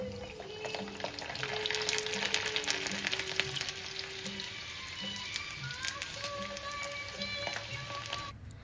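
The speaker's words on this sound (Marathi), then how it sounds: "खूप सारा लसूण या कडकडीत तेलामध्ये भाजून घेणार आहे" Plenty of garlic frying in very hot oil for a homemade pickle gives a constant crackling sizzle with scattered pops, moderately quiet and close, with no talking over it.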